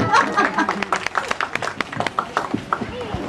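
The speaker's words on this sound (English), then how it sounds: "Big round of applause for that." Graduation day crowd claps in a brief, scattered round, individual hand claps sharp and uneven, with voices talking and calling over it.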